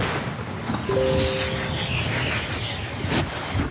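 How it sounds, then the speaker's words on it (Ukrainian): A single heavy artillery boom rolls out over wind noise, dull and distant-sounding, with a short tonal whine and no talking. "Постріл!"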